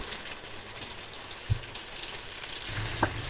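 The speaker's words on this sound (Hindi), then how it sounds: "जब तक हमारे टमाटर और हमारे प्याज जो हैं वो फ्राई होते हैं" Tomatoes and onions frying in a pan for creamy aloo chicken palak, a steady soft sizzle throughout with a couple of brief louder pops.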